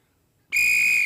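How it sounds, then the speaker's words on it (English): A referee's whistle starts the second half of a high school girls' rugby sevens game, one loud, steady, shrill blast that begins abruptly after near silence and holds to the end. "And on the whistle."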